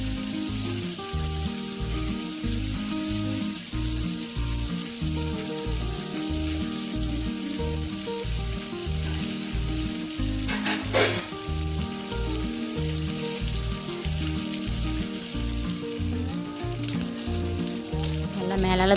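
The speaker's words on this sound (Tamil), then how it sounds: "ஒரு குழிக்கரண்டி எண்ணெய் ஊற்றுறேன். அதில் கருவாடெல்லாம் நான் மிக்ஸ் பண்ணி வச்ச கருவாடெல்லாம் ஆட் பண்ணுறேன்." Dried anchovies fry in oil in a pan with a steady, loud sizzle that runs throughout, joined by a brief burst of spattering crackle near the middle and more toward the end.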